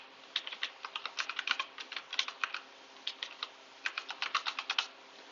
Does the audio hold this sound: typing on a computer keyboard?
yes